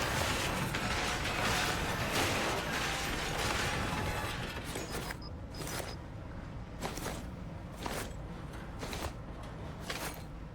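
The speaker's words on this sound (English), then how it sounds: "Vacuum all this stuff up." A vacuum tool sucking up debris in The Last Caretaker video game, with a continuous rushing roar that thins out midway, followed by a run of separate mechanical clatters and clicks.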